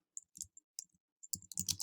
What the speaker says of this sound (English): I'm going to start typing.